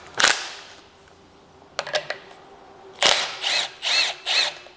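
An impact-style power tool with a 17mm socket working on a Daihatsu Hijet S510P kei truck strut, heard as several short loud rattling bursts close by, with a few clicks between them.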